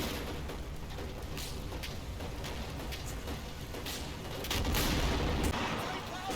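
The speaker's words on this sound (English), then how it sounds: "Small arms engage the panzers." Small arms fire crackles through a Combat Mission battle in Italy or Tunisia, a steady run of rapid sharp shots with heavier booms, growing louder near the end.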